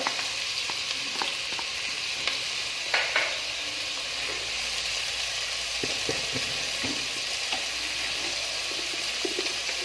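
Ginger, garlic and green chili with onion sizzle in hot oil for a vegetable chicken curry, a dense, even hiss broken by scattered stirring clicks throughout.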